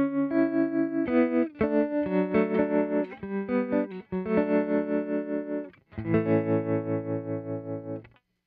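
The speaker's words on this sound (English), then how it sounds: "I think the tremolo sounds really great." Electric guitar chords pulse through a tremolo effect on a Hothouse DaisySeed DSP pedal, the volume throbbing in a steady rhythmic wobble, played loud and close with no voices.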